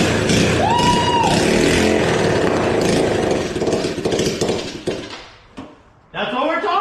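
A drift quad ATV engine, smoking heavily, runs harsh and loud close by and is revved with raspy, chainsaw-like bursts and some metallic clatter, then fades and stumbles briefly before surging again.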